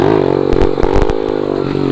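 A motocross motorcycle engine revs hard in a loud, close, steady drone, with light clatter and scraping mixed in and no talking.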